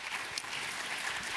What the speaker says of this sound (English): Let's give a big, huge round of applause for Roya.